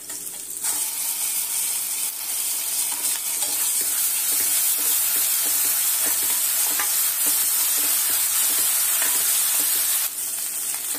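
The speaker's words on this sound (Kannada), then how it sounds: "ಚೆನ್ನಾಗಿ ಹಸಿ ವಾಸನೆ ಹೋಗೋ ತನಕ ಹುರ್ಕೊಳ್ಳೋಣ" Ginger garlic paste and curry leaves frying in a pan for a Mandya-style chicken gravy, a steady close sizzle with light stirring scrapes running nearly the whole time.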